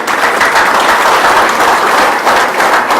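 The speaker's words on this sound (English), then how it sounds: "give yourselves a round of applause" A crowd at a tour event in Portland, Maine claps in sustained, dense applause, loud and even throughout with no pause.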